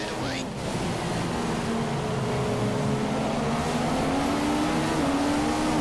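A Formula 1 car in F1 2015 at the British Grand Prix, its engine droning and shifting pitch as it brakes and accelerates, with a steady broad wash of track noise around it.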